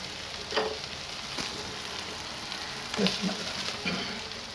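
Cow brain masala with egg yolks frying in a pan, a soft, steady sizzle with a few spoon scrapes and clacks, fairly quiet and close.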